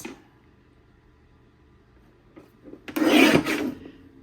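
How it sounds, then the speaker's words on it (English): Paper trimmer blade sliding through a sheet of red cardstock, a brief rasping cut late on after near silence, close and fairly loud. "I'll take 1 sheet of red and trim this at 9 3/4"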